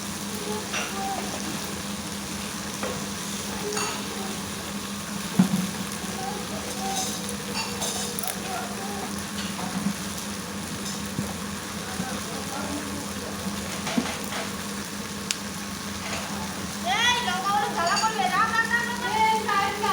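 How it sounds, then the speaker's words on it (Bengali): Vegetables sizzle and fry in a pan for a vetki fish and taro curry, a steady crackling hiss with occasional stirring scrapes and a louder burst near the end. "সবজিটাকে ভালো করে কষিয়ে নেব।"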